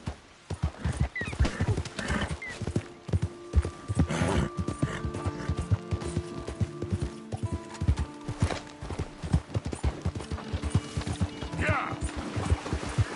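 Hooves pound in a fast, rhythmic gallop in a PS4 video game, loud and near, with clattering tack-like mechanical rattles and a brief whinny. A voice speaks over the hoofbeats at times.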